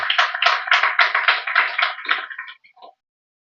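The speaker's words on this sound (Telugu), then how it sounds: "గట్టిగా చప్పట్లు కొట్టి దేవుని ఘనపరచుదాం" A church congregation claps loudly in unison, a dense run of fast rhythmic claps that keeps going for a few seconds before thinning out and stopping.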